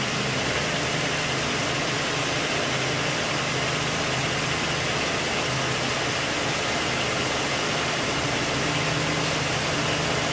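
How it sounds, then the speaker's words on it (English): A 2011 Lincoln MKX engine idling just after start-up, heard as a constant, even hum with steady vibration and a broad hiss, close by and unchanging throughout, with no one talking. "Start up at idle is something it wouldn't do before."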